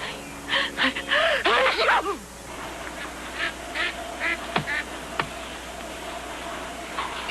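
A voice imitates a flock of ducks with quick, nasal quacking bursts, fading into faint scattered clicks and background hiss.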